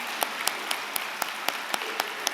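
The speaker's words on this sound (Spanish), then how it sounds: "Un aplauso para nuestra hermana Miriam" A congregation applauds at a Sunday church service. The sound is soft, steady clapping with sharper claps standing out at an even, rhythmic pace, and no voices are heard over it.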